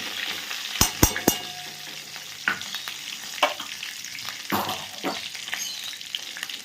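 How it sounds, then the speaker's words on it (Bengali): Homemade ghee hits a pan of frying prawns, giving a steady close sizzle broken by a few sharp clinks and stirring scrapes. "এইরকম আমার বানানো ঘি আমি এর মধ্যে দিয়ে দিলাম"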